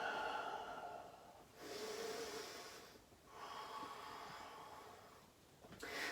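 Slow, deep breathing from someone lying face down during a vinyasa yoga flow, three long soft breath cycles, close and quiet with no talking.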